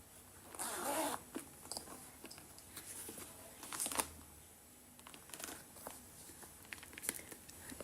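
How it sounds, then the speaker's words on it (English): A zipper on the inner zip pocket of a Chanel Classic Flap Bag in caviar grained calfskin is pulled in short, close raspy strokes, with faint leather crinkling and handling noises between them. "So we have a zip part right here."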